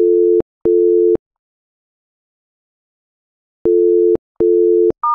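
Repeating busy-signal tone from a phone in a mystery video game, sounding as two pairs of short steady beeps separated by a pause, clear and alone, with a brief higher tone at the very end.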